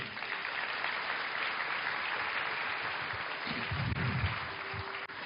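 Congregation applauding at a Portuguese-language church revival service, a steady wash of clapping from many hands that stays loud throughout, with a low voice murmuring beneath it near the end.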